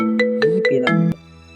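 A phone rings with a short, bright melodic tune of four quick notes, loud and alone, then cuts off abruptly.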